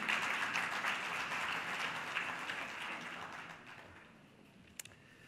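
Audience applause welcoming the Governor of Sindh at a Karachi dialogue event, a steady dense wash of clapping from a hall crowd that gradually fades over several seconds, ending with a couple of isolated claps.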